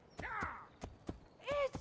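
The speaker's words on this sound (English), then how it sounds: "The horse is faster now." A horse's hooves thud in quick, uneven beats in Assassin's Creed Brotherhood, mixed with short vocal sounds from the game.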